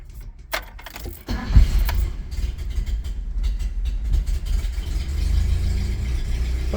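A carbureted engine in a 1980 Toyota pickup cranks briefly, then fires and settles into a steady low idle rumble, close by, after a few clicks at the start.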